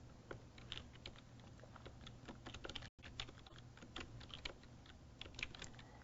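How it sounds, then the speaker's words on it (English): Keys tapped on a computer keyboard in a steady, irregular stream of light clicks, close and fairly quiet, with a brief cut to silence midway and no talk. "I can just start typing some information."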